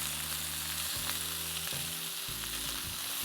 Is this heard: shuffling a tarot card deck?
no